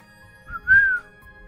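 A short whistled phrase from the game Princess Evangile W Happiness: a soft opening note, then a brighter, louder sustained tone that swells and fades, heard alone over a faint background.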